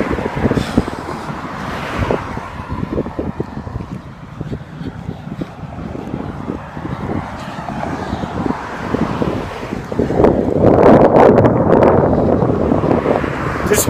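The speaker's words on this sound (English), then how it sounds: "This wind, I can't film anything because the wind's blowing." Loud wind buffets a camera microphone outdoors beside a road, a continuous low rumbling roar that surges stronger toward the end, with passing car traffic faintly mixed in.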